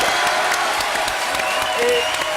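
Loud, full applause from a French television studio audience for a singer, with steady dense clapping and a hint of cheering, close and continuous throughout.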